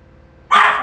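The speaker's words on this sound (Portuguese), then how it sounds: "Ô, cachorro louco!" A dog barks in the video game Mother Simulator, a sudden loud, close burst arriving mid-moment after near silence, sharp and bright.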